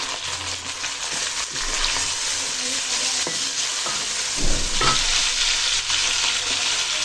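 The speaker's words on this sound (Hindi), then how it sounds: "अब चिकन को भी हमें तकरीबन 15 मिनट फ्राई करना है" About half a kilo of chicken fries with browned onions in a pot for aloo chicken, a dense steady sizzle with occasional stirring scrapes and a louder burst midway, heard close with no talking.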